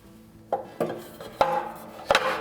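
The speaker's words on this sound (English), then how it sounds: "Now we can put the side fire bricks back. They literally stack up on top of each other, like that." Fire bricks for a Woolly Mammoth 5 wood stove are stacked inside the steel firebox, giving four sharp, hard knocks and scrapes spaced about half a second apart, close and clear with no talking.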